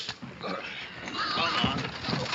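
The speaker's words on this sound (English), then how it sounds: "Cart don't reckon to hold more than 10 pigs." Pigs crowded into a cart in a 1937 film scene, giving short grunts and oinks close by, mixed with murmuring voices and muffled bustle.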